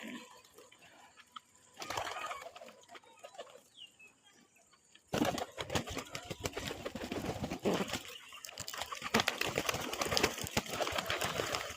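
Several domestic pigeons coo and murmur close by, mixed with splashing, rustling and fluttering that start quietly and grow busier and louder in the second half.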